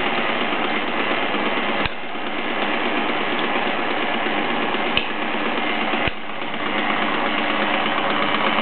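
A Bowman E101 model steam engine drives twin Mamod toy workshops, chugging and whirring in a steady mechanical rhythm punctuated by a few sharp clicks.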